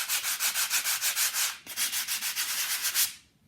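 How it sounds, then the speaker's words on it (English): Hand sanding of dried polyfiller on an archway wall: quick, rhythmic back-and-forth rasping strokes, close and steady, with a brief pause midway before the scraping resumes and then stops. "now I'm just sanding it nice and smooth"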